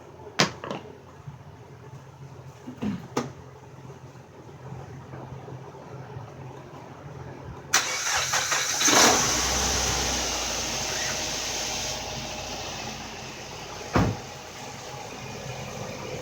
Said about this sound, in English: So we're going to go ahead and get it started and test the clutch out.